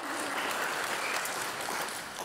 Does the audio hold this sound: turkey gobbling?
no